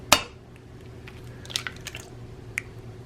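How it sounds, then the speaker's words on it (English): An egg cracked and dropped into a bowl of very ripe mashed banana for pancake batter, giving one sharp crack-and-squish near the start, then a few soft wet squelches and small clicks. "I'm gonna add an egg."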